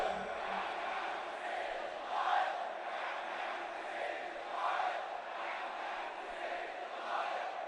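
Massive protest crowd in Baghdad roars and chants in a continuous, swelling din, with rhythmic surges of many voices filling the recording.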